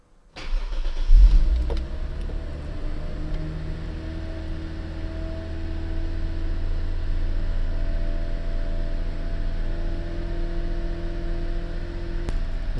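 1991 Toyota Soarer 2.5GT engine cranks briefly and catches, then settles into a smooth, steady idle hum, close and even, with no talk over it.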